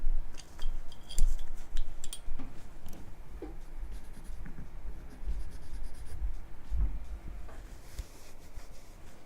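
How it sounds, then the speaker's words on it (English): Pencil shading core shadows on a paper figure drawing, giving soft continuous scratchy strokes with short bursts, close and fairly quiet with no talk. "let's do it with a pencil that's up for the task."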